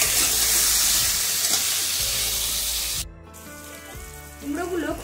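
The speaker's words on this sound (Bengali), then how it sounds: "কুমড়োগুলো খুব সুন্দরভাবে ভাজা হয়ে গেছে।" Pumpkin pieces seasoned with salt and turmeric fry in a pan with a loud, steady sizzle for about three seconds, then the hiss drops sharply and a voice comes in near the end.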